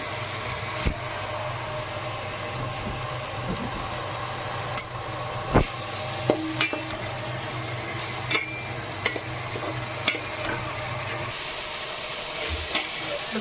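Onions and green chillies fry in a pan for a prawn malai curry, a soft low sizzle broken by sharp scrapes and taps of stirring, with a faint steady hum underneath.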